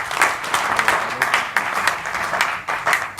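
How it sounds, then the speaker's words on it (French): Audience applause at a Francophonie fiftieth-anniversary celebration at the French Institute in Yaoundé, greeting event partners; steady, dense clapping from a crowd with rhythmic swells throughout. "vous pouvez les applaudir, tous ces partenaires."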